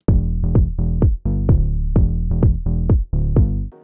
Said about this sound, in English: I have a kick drum and a bassline,